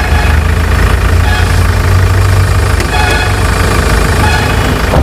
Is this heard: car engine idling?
yes